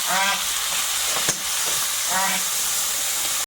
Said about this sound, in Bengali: তেলের মধ্যে একটু পাঁচ ফোড়ন পেঁয়াজ কুচি অল্প একটুখানি রসুন দেবো কাঁচা লঙ্কা